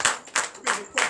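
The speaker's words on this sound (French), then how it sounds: "Donnez l'acclamation à Jésus." Congregation at a night deliverance and prophecy church service claps in acclamation: four sharp, evenly spaced bursts of clapping in quick rhythm, close and moderately loud.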